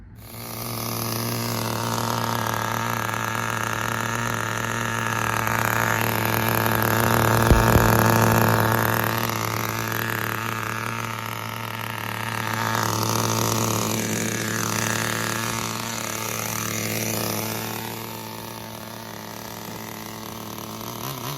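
A Thunder Tiger TS-4n RC car's 4Tec Pro .15 nitro engine idles close by with a steady buzzing drone, swelling and dipping slightly as the revs wander, no talking over it.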